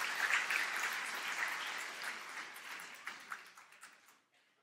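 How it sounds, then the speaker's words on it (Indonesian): A room full of people clapping steadily at a church anniversary service, the applause gradually thinning out and fading away toward the end. "Beri tepuk tangan buat Tuhan Yesus"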